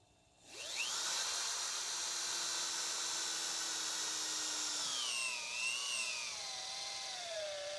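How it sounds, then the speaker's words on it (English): A power drill whines steadily at high pitch, boring through a wooden 4x4, its tone dipping and wavering near the end as the bit works through. "I'm going to drill them right through"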